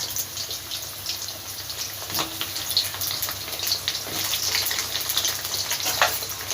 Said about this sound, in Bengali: আলুটা ভাজা হয়ে যাক লাল লাল করে